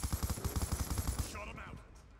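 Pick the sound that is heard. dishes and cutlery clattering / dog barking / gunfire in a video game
gunfire in a video game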